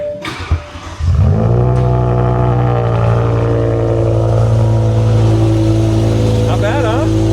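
BMW X6M fitted with an aftermarket exhaust, its engine droning loud and steady close by after a brief rise, with voices talking faintly over it.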